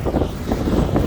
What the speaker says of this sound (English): Holy Moses, it's windy out here.